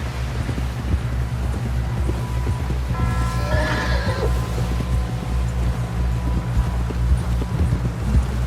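A horse in Red Dead Redemption 2 gives one clear whinny midway while steady hoofbeats clip-clop throughout, close and fairly loud over a low rumbling background.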